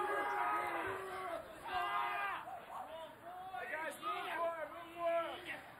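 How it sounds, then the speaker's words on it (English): On the St. John's bench at a boys' high school soccer match against CHS, players shout and cheer in bursts, several voices yelling encouragement over a busy crowd and commentary in the background. "The St. John's bench really cheering their team on here"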